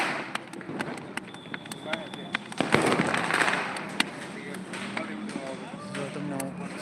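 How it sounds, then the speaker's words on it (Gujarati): Firecrackers burst during a festive night, in a string of sharp cracks and pops, some near and some far across the area, with a louder burst midway. A person talks over the bangs. "જો આપણે ફટાકડો ફોડી રહ્યા છીએ"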